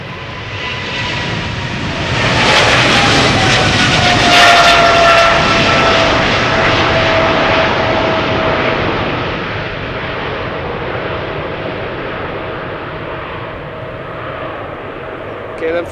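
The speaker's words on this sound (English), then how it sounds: "KLM Flight 635 on its way to Las Vegas. 777-300 the PHBVI, 12 years old, first flight June 2012." A KLM Boeing 777-300 takes off from Schiphol's Polderbaan, its jet engines swelling into a loud, close roar with a falling whine, then slowly fading as the aircraft climbs away.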